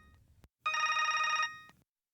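A telephone bell rings once in a steady electronic burst of just under a second, clear and alone against a near-silent background, followed by a faint click.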